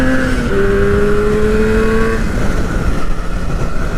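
A Yamaha RD 400 two-stroke 400 cc motorcycle engine revs and accelerates, its buzzing tone climbing in pitch and then settling, loud and close with heavy wind rumble underneath.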